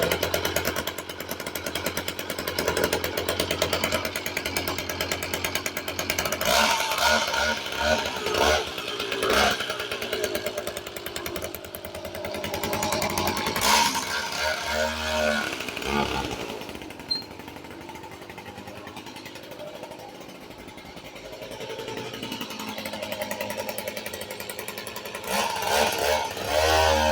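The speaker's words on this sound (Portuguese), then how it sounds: "Freio bom, motorzinho top, motor de 75 cc, já está pronta para sair." A small 75cc motorbike engine runs steadily nearby with a buzzy, rattling drone that swells and dips slightly as it idles and revs.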